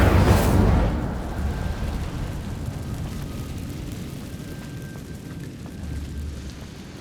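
Incendio fire spell cast in Hogwarts Legacy: a loud fiery whoosh bursting at the start, then fading into a rumbling, crackling tail over ambient game background.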